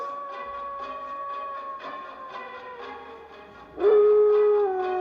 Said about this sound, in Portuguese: Tipo um uivo de lobo.